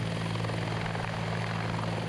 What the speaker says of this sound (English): The RAC helicopter was called in to ferry the most injured man to hospital